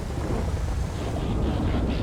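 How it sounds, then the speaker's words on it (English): Thunder during a rainy street race in the GTA FiveM game rolls as a continuous dense rumbling roar, loud and unbroken throughout, with no distinct single crack standing out. "We obviously can't hear anything because of the thunder."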